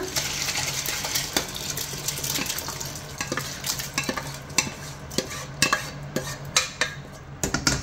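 Pieces of mutton go into a pan of masala, followed by spoon stirring that scrapes and clinks against the pan over a soft sizzle, with sharper metallic taps growing toward the end, close and fairly quiet.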